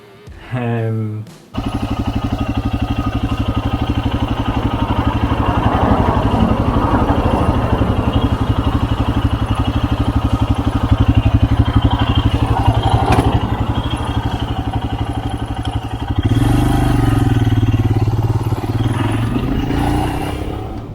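A steady, loud Royal Enfield Himalayan BS4 motorcycle engine drones throughout, with a brief lower rumble at the start and a slight change in tone near the end.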